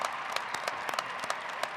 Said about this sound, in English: Please applaud these students for their efforts.